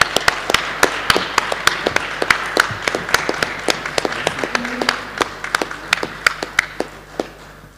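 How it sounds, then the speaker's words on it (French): Members of a special delegation receive applause at a municipal council installation meeting, sparse, sharp individual claps in an uneven rhythm from a small group, over a quiet room hum. "je propose qu'on applaudisse les membres de la délégation spéciale."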